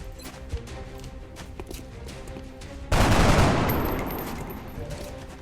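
A gunshot in the XCOM Long War video game, sounding as one loud, close burst of fire that cuts in abruptly midway and then fades out slowly over low game ambience.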